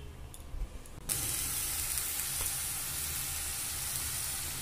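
A sudden loud sizzle bursts up as ginger-garlic-onion paste is poured into hot oil tempered with a dry chilli and bay leaf, then settles into a steady close hiss after a brief quiet start.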